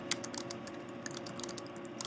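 Close computer keyboard typing in a steady quick patter of light key clicks over a constant low hum, with no voice.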